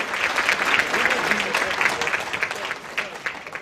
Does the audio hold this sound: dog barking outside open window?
no